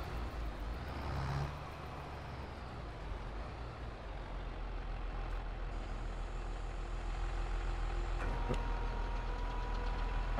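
A John Deere vehicle engine in Farming Simulator 22 runs with a steady low rumble and knock that grows slightly heavier toward the end, with a few faint mechanical clicks and tones.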